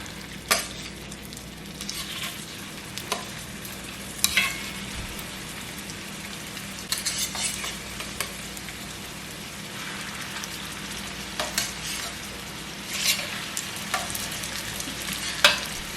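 Galouti kebabs sizzle steadily in hot olive oil in a pan, a continuous crackling fry with scattered sharper pops and spatters throughout, close and alone with no talk.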